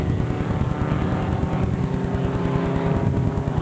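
Race car number 20 pulling out of the pits after a tire change, its engine a close, steady, rough pulsing rumble that continues throughout with no voices.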